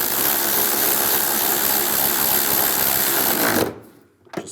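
A power driver tightens a nut on the windshield washer reservoir of a 2005-2010 Dodge Dakota, whirring loud and steady for about three and a half seconds before cutting off abruptly, with no talking.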